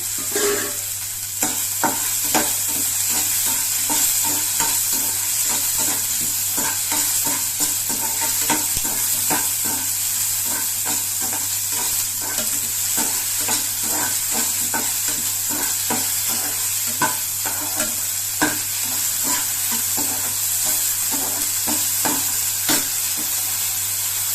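Dried red chilies and turkey berries fry in a pan for a turkey berry chutney, giving a loud, continuous sizzle broken by frequent stirring scrapes, with no talking.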